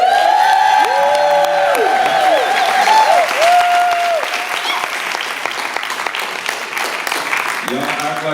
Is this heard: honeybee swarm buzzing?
no